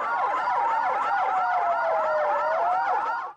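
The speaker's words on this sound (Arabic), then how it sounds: "سيارات الإسعاف التابعة لوزارة الصحة اليمنية تطلق صفاراتها من أمام مكتب الأمم المتحدة في صنعاء" Yemeni Health Ministry ambulances sound their sirens outside the UN office in Sanaa, Yemen, with several overlapping wailing sirens rising and falling continuously and loudly, close by, with no talk.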